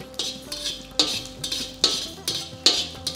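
Dried Byadgi and Guntur chillies stirred in a pan: a ladle scrapes and clinks against the metal about five times in a steady rhythm, fairly close and moderately loud, with no voices.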